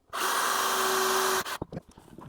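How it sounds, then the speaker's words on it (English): A power drill with a 6mm bit bores through motorcycle tailpiece plastic bodywork, a loud, steady whine lasting just over a second before stopping abruptly, followed by a few light handling clicks and knocks. "now I'm just going to drill these holes with a 6mm drill bit"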